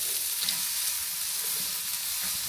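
A picanha cut of top sirloin sears in a hot pan, giving a loud, even, continuous sizzle close up with no pauses.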